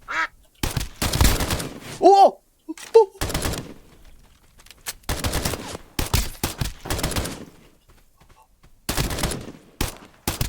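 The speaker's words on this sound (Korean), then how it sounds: "뭐야, 따발총? 따발이를 쓰신다고요?" Bursts of rapid submachine gun fire ring out in the duck-themed shooter game Escape from Duckov, several separate volleys with short gaps, loud and close, mixed with quacking and brief talk.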